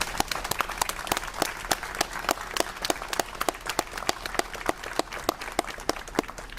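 Applause for first responders at a September 11 remembrance event, a crowd clapping in a fairly sparse, rhythmic pattern with distinct sharp claps, moderately loud and steady, no talking over it.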